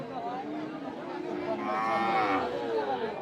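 A heifer at a busy cattle market lows in a drawn-out moo that swells midway, with crowd chatter and market noise underneath.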